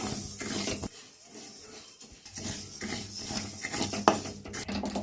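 Ingredients stirred and lightly fried in a pan, a close, continuous sizzle broken by scraping and clinking of a spoon against the metal, with no talking.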